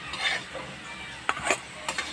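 Faint frying hiss with a few sharp scrapes and clinks of a utensil stirring leafy greens in a wok, spaced irregularly.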